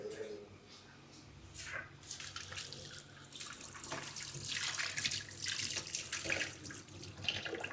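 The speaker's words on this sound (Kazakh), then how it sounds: "Қазір қолын жуып жіберейін." Hands are washed under a running tap while baking baguette dough, water splashing and gurgling in uneven bursts that grow louder, with a voice talking in the background.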